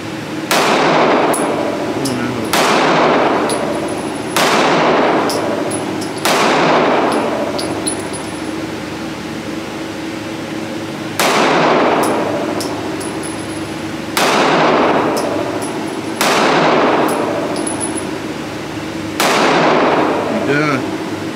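Gunshots fired at targets on a shooting range, sharp loud cracks in irregular bursts, some followed by metallic clangs of hits, spaced across the stretch with voices occasionally talking between shots.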